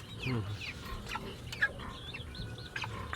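Chickens cluck in short, scattered bursts nearby, a rooster among them, with soft farmyard bird chatter and a brief voice in the background.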